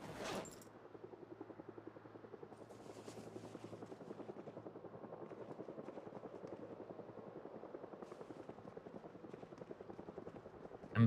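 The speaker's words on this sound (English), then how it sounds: "There's the heli. You hear it?" A helicopter in the video game Project Zomboid thrums overhead, a faint but steady rapid rotor chop pulsing evenly the whole time, with a couple of brief bangs near the start.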